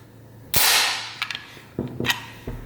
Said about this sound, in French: la genouillère, elle repart en avant